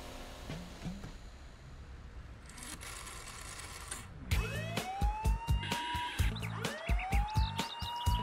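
Police car siren from a children's cartoon set in a town called Autopolis, starting after about four seconds of quiet music, then rising wails repeating loud and close alongside bright cartoon sound effects and a beat.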